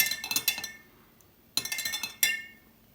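A spoon clinks rapidly against a glass container in two bursts, bright metallic taps in quick succession with a short pause between.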